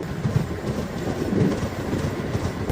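A Vistadome special train running through snow between Badgam and Banihal in Kashmir rumbles steadily, its wheels clacking rhythmically over the rails in a continuous, moderately loud roll.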